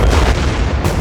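A fuel drum ignited by welding sparks goes up in a movie explosion, a loud, continuous broadband roar of blast and rumble filling the whole second with no pause.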